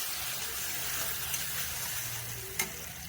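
Water swishes and trickles steadily as ingredients for a Nepali tomato pickle are rinsed, a continuous faint splashing with one brief clink near the end.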